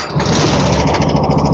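A vintage four-stroke snowmobile engine running steadily just after starting, a loud, smooth, even buzzing drone close by with no break.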